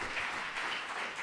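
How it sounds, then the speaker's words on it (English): An audience claps at a public panel introduction, a brief steady wash of many hands clapping together, soft and even with no speech over it. "And I'm going to give you a clap."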